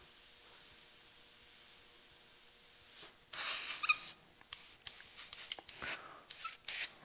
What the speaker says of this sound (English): I get this color to spray halfway decently.